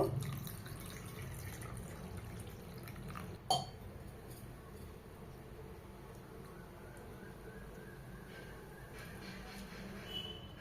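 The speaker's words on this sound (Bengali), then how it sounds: "আলু ধুয়ে নেব।" Cut potato pieces being washed in water make soft sloshing and trickling with small clinks of a bowl, plus one sharp knock partway through.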